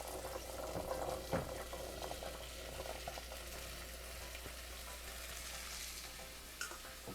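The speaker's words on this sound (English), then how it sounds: "I'm going to go ahead and add my channa into this pot here." Chickpeas added to a pot of curry and stirred, with soft sizzling and bubbling, a thump or two of the spoon, and scraping, quiet and close.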